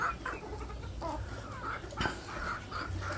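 Five breeding hens cluck in a coop, a steady run of short calls at moderate volume with brief louder peaks in between.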